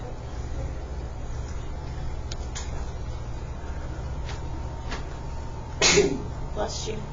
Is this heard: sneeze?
yes